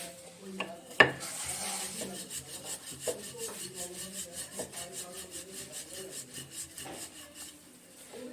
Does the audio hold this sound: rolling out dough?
yes